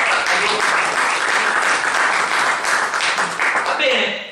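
Audience applause at a political talk in Mirano, a dense, loud wash of clapping sustained throughout before tapering slightly at the end.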